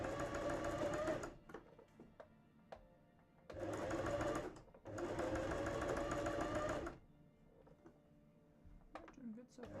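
A sewing machine stitching an undershirt for a cosplay costume runs in three bursts of rapid mechanical whirring, separated by quiet pauses with faint clicks, close and clear.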